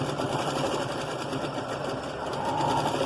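A sewing machine stitches piping onto a six-year-old child's blouse, a steady close whirring hum that runs without a break.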